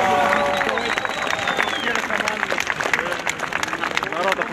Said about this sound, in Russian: Народ аплодирует на лозунг «Путин, беда России»